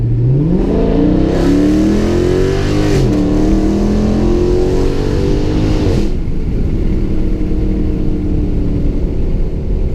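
A loud, close exhaust on a Dodge Charger Scat Pack with the mid muffler deleted revs up hard, the engine pitch climbing through gears, then drops away into a steady rumbling idle.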